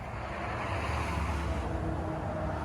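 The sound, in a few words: car driving by in the early morning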